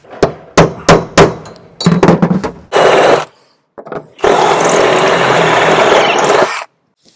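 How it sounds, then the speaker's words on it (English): A drill bores big holes through the bulkhead of a Land Rover Defender 90: a few short, loud stuttering bursts, then a longer steady grinding run, all close and with no voices. "So we've got to drill some big holes."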